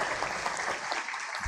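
An audience at a state seminar applauds council members, a brief, dense wash of clapping from many hands heard at moderate distance.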